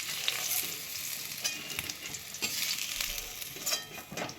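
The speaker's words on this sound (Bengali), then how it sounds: "আমার পনিরগুলো দেখো ভাজা হয়ে গেছে" Paneer frying in hot oil in a pan: a continuous bright sizzle with occasional clinks and scrapes as pieces are turned or lifted out, close up and without any speech.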